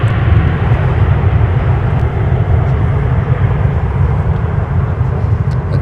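An airliner rolls for takeoff from runway 17 at Minneapolis–St. Paul airport on a winter day, a loud, steady low engine roar filling the scene without letup.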